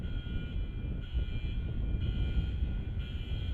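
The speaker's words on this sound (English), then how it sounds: "This is it opening and closing of a hardened aircraft shelter" Hardened aircraft shelter doors opening and closing at Kunsan Air Base, heard as a steady, loud low-frequency rumble of heavy machinery with a constant mechanical hum, continuous and without talk.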